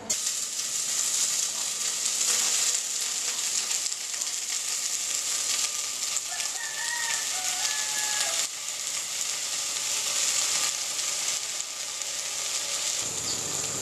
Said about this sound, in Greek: Οι κάμπιες λοιπόν τηγανίζονται.